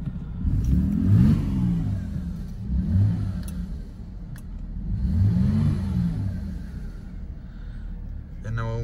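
A straight-piped Mercedes W204 C300 idles with a close, rumbling exhaust note and swells into two loud revs a few seconds apart, each dropping back to idle.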